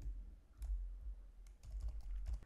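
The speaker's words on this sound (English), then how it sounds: "Right now I'm using the keyboard to play this game" Quiet, rapid clicking of Chromebook keyboard keys pressed during a game, close to the microphone with no talking.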